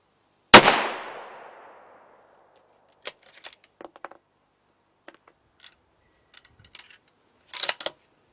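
A 6.5 Creedmoor rifle fires one loud, sharp shot that rings out and decays over about a second, followed by scattered quiet clicks and handling noises of the gun at a shooting bench.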